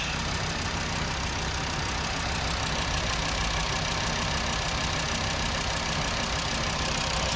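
A 2.5-litre VW Jetta MK6 engine idling after a cold start, a steady close rumble with a fine rhythmic ticking running through it and no voices.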